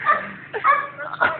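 A dog yips and whimpers in quick, close bursts, a few short barks mixed with high whines during play with a ball.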